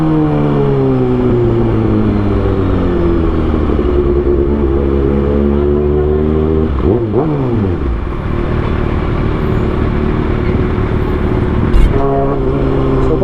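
A Kawasaki ZX6R inline-four motorcycle idles loudly and close in city traffic, its engine rising and falling in steady revs, then blipping sharply twice, the exhaust note dominating throughout.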